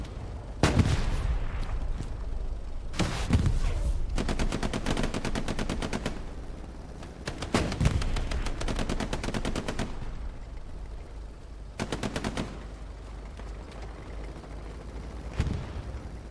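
Bursts of automatic submachine gunfire from M3 grease guns during a competitive Hell Let Loose match, several separate rattling volleys of varied length, loud and close, over steady battlefield background noise.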